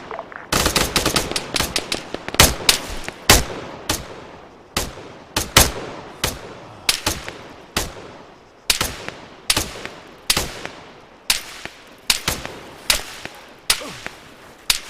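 Rapid machine-gun bursts ring out in Arma III, loud and close, as a long run of sharp cracking volleys with brief gaps between them and no voices over the firing.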